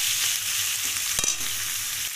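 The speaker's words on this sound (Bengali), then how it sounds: "আর এখন তেলের উপর 2টো পেঁয়াজ দিলাম।" Onions frying in hot oil in a pan, with a continuous close sizzle and a brief scrape of stirring near the middle.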